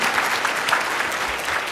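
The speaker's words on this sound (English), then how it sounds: "one more round of applause" Audience applause at a Women Who Shape the State of Alabama awards event, steady dense clapping throughout with no voices above it.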